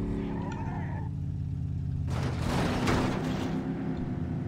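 Car driving in The Godfather II video game, a low steady engine drone that swells into a louder rushing burst of engine and road noise midway, close and continuous.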